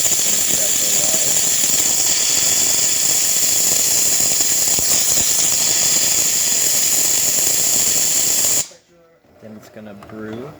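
A Jura Ena 8 coffee machine runs with a loud, steady hiss and mechanical whir close to the microphone for about eight seconds. It then stops abruptly, leaving faint room sounds and a voice.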